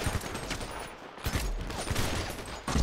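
Rapid gunfire in GTA 5 Online, a series of sharp, fairly quiet cracks and bursts over about three seconds of steady game noise, with no speech.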